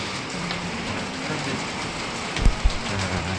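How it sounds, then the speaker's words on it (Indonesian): Steady rain falls with an even, hissing wash at an eatery serving duck, broken by a couple of brief low thumps near the end. "Hujan, Fit."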